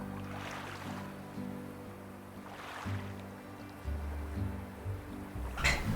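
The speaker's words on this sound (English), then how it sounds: "I think it's the sound of the waves" Ocean waves washing in the video game Slime Rancher, soft repeating surges of surf with a low steady background, faint and ambient, ending in a brief sharper sound.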